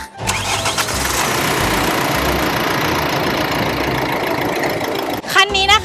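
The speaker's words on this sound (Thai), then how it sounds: "เดี๋ยวเราไปฟังเสียง เครื่องยนต์กันดีกว่า" A 2023 Nissan Navara with a 2.3-litre 190-horsepower diesel engine cranks and then idles with a steady, even clatter, loud and close, before a brief break and other sounds at the end.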